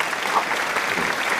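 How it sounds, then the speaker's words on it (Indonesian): Classroom applause for a student named Petro: a dense, steady burst of many hands clapping together, close and fairly loud, filling the short moment without a break. "Tepuk tangan untuk Petro."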